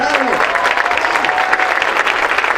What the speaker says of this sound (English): You can give another round of applause for the kids.